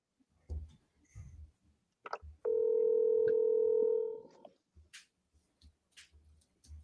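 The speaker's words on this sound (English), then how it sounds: "So we're going to double dial." A phone call being placed: a steady dial tone holds for about two seconds, with short clicks and taps before and after it and no talk over it.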